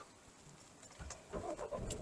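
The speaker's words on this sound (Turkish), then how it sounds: "Kontağını açıp çalıştıralım." A car engine starts with the ignition during a driving lesson, cranking faintly and then catching into a low, steady idle that grows a little louder toward the end.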